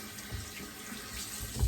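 Water runs steadily from a bathroom tap during a shave, a continuous close hiss and splash that stays even throughout, with a soft bump near the end and no talking.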